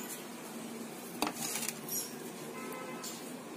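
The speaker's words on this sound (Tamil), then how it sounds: "ஒரு பவுலுக்கு டிரான்ஸ்ஃபர் பண்ணிடலாம்" Faint clinks and scrapes of a spoon against a pot and bowl as dal curry is moved into a bowl, with a couple of sharper metallic taps.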